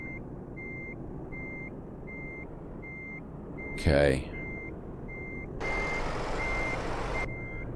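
Volvo FH16 truck with a heavy trailer reversing in Euro Truck Simulator 2, with a steady series of evenly spaced reversing beeps over a low engine rumble, a brief burst of air hiss, and a short spoken word midway.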